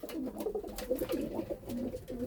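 A pet pigeon cooing repeatedly nearby, soft throaty calls rising and falling in a steady rhythm.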